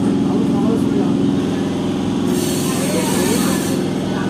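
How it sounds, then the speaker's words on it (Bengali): A MEMU passenger train runs over crossing lines at Azimganj cabin on the Katwa–Rampurhat route, a steady loud rumble of wheels and carriage noise heard from on board, with a hissing rise in the middle. "ট্রেন আমাদের লাইন ক্রস করছে আজিমগঞ্জ কেবিন।"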